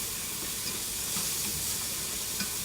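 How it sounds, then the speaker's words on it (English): Vegetables sauteing in a pan, a steady close sizzle and hiss running the whole time with faint scraping stirs, no voices. "so sauteing that"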